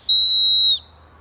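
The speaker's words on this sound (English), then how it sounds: "So, got a little emergency whistle." A small emergency survival whistle rated at 120 decibels gives one piercing, steady high blast lasting under a second. It is very loud and close, then cuts off into near silence.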